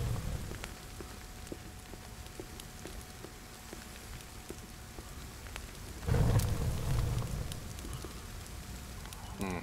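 Steady rain in the video game The Forest patters on a surface throughout, with a brief louder wash of noise partway through, like a gust or a heavier downpour.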